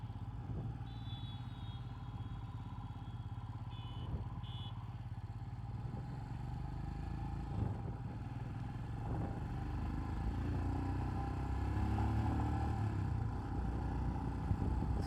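Royal Enfield Himalayan motorcycle riding along, a steady low engine drone with road and wind noise building slightly louder toward the end, no talking.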